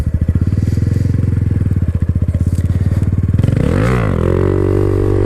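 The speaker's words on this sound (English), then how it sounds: "let's do one more slow wheelie, pop it up to balance point, and try to maintain it with a minimal throttle and a little bit of brake control" A Honda Grom motorcycle engine thumps in a fast, even idle-like pulse, then the rider blips the throttle into a rising and falling rev as the bike is lifted into a slow wheelie, loud and close.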